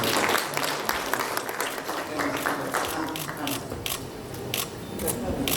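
An audience claps continuously at a Hollywood film's mahurat launch ceremony in Dubai: dense, loud, steady applause throughout, with some crowd voices mixed in.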